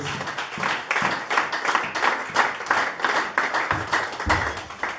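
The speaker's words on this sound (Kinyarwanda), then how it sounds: "Reka n'ubundi tumwakire dukomere Imana yo mu ijuru amashyi." A church crowd applauds a pastor at a ceremony honouring pastors: a dense, steady wash of many hands clapping close by, with rhythmic surges and brief louder bursts throughout.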